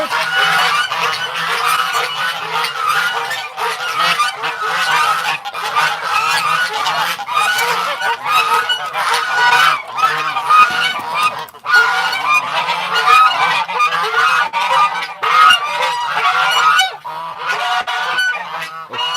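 Loud, dense honking from a flock of geese close by in a farmyard on a cold, windy winter day, overlapping calls continuing without pause throughout.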